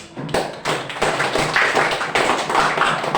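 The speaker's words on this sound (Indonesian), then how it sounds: "Ya, betul sekali. Tepuk tangan." Classroom of students clapping together in a short burst of rhythmic claps, fairly close and loud, filling the room without talk.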